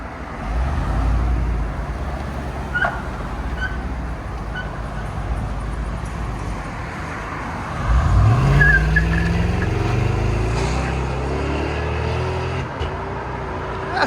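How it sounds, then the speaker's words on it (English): A 2019 Chevy Suburban with a 5.3L V8, true dual exhaust and Flowmaster 40 mufflers rumbles nearby, with a low idle that swells into a louder rev partway through before settling back. "'19 Suburban with true duals dumped into Flowmaster 40s."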